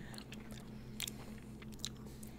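Close, crisp chewing and crunching of Little Debbie honey bun flavored ice cream with crunchy pieces, a few sharp bites over a low steady hum.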